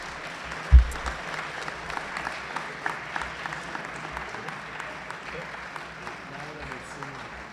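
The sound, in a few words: audience applause at sports awards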